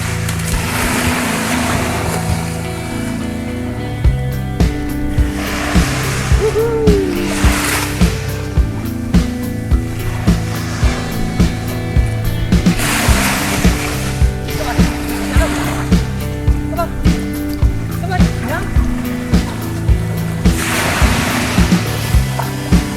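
Surf at Tri Trang Beach in Patong, Phuket, with waves repeatedly washing in and breaking over a steady wash of water, while people talk faintly in the background.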